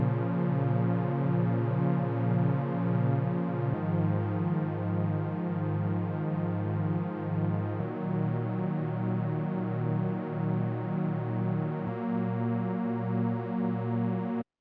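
A Pigments wavetable synth pad with unison and a darker, heavy low end holds sustained chords that change every few seconds, with a warm, gently pulsing texture and no voices.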